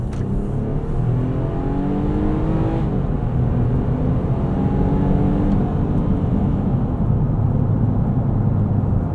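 A 2023 Nissan Pathfinder Rock Creek with its VQ V6 pulls hard from inside the cabin, the engine note climbing in a steady rising surge over road noise, with no talking.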